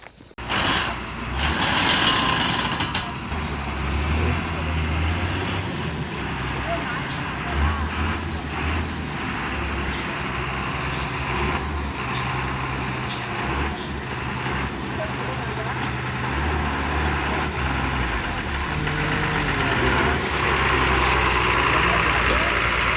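A car's engine rumbles low and steady as it pulls up and keeps idling, with people talking nearby throughout.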